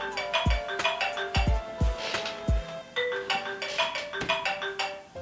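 A phone ringtone sounds during a hookah tobacco review, a repeating melodic chime pattern of bright tones and low pulses playing steadily and fairly loud for several seconds with no speech.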